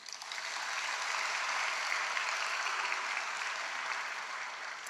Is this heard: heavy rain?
no